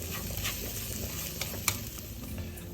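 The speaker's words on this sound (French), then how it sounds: "Je mets les oignons dans la poêle et je vais les faire revenir jusqu'à ce qu'ils soient translucides." Onions cooking in vegetable oil in a frying pan, giving a soft, steady sizzle with faint stirring scrapes and one brief clink, close by and quiet, with no voices.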